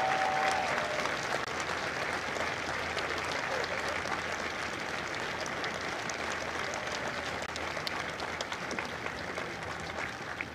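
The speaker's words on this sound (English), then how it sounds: "Ladies and gentlemen, a round of applause for their dedicated service to Corps and country." Sustained audience applause at a Marine recruit graduation ceremony at MCRD San Diego, a broad even wash of many hands clapping that holds steady throughout, heard at some distance.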